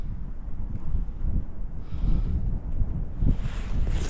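Wind gusts rumble into the microphone on open lake ice while ice fishing near the Latvian border at Žagarė, a low, buffeting roar that rises and falls in waves throughout.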